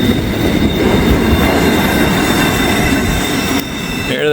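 Massive freight trains haul up a steep grade toward Erlanger: a loud, continuous rumble of heavy rail cars with metallic wheel squeal and clatter, close by, with no talking.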